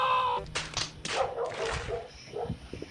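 Dogs bark and yip in short bursts nearby, with some whimpering between the barks.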